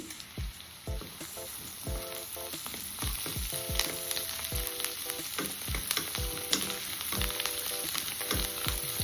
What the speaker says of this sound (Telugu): ఇప్పుడు కొద్దిగా కరివేపాకు, తరిగిన కొత్తిమీర వేసి కొంచెం సేపు వేయించేసుకోవాలి.